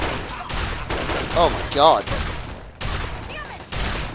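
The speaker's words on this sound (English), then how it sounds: "Holy explosion!" Gunfire and explosions from the video game Fallout 3 crack in sharp bursts between short gaps, with a loud burst near the middle, while a man exclaims over the noise.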